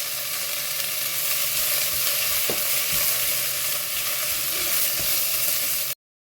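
Sliced onions sautéing with a little salt in a pan for thari biryani, a steady broadband sizzle with faint stirring scrapes, continuous and close, no talk.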